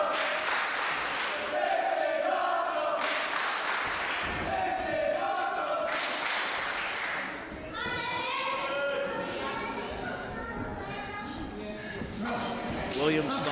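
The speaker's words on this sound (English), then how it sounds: "And the crowd showing their appreciation, chanting, "This is awesome."" A wrestling crowd at a live independent show chants in loud rhythmic unison, a dense roar of many voices filling the arena with a slight dip midway, while a commentator talks over it.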